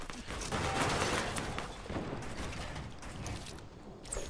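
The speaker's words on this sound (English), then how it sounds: "Was that you shooting me?" Video game gunfire aimed at the player comes as a quick string of faint, sharp, clicking shots over a busy mechanical background, with no talk.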